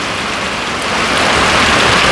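Heavy early-morning rain pours down steadily, a loud, dense, unbroken hiss of water that swells slightly louder toward the end, with no voices.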